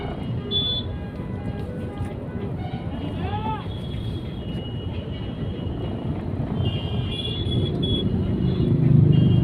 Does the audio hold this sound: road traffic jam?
yes